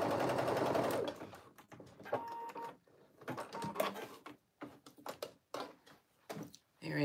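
A sewing machine understitching the neckline of a knit tee runs a sustained stretch of rapid stitching, then stops and starts in short bursts with quiet pauses between them.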